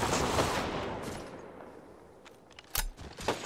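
Gunfire in the video game Apex Legends: a burst of rapid shots at the start fades into a quieter stretch, then sharp single reports and another short burst near the end.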